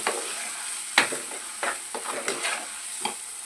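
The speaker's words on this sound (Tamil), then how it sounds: "அரைச்சி வச்ச அந்த தேங்காவை போட்டுட்டு ஒரு வதக்கிட்டு" Ground coconut paste sautéed with onion and tomato for an anchovy curry, a soft sizzle broken by repeated scraping stirs of a spoon against the pan, close and without speech.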